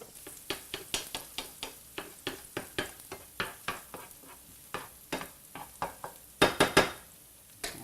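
Shallots sauteing in oil give a soft sizzle under a rapid series of sharp scraping stirs against the pan, with a louder cluster of scrapes near the end and no talking.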